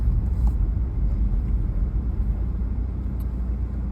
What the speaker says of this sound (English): This is an old car and it's very, very loud.